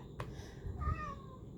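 A cat gives a single faint meow indoors, a short falling cry against quiet room noise, with a soft knock just before it.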